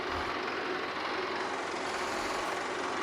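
Tractor engine in Farming Simulator 22 idling with a steady, continuous drone that holds even throughout, loud and close with no talk over it.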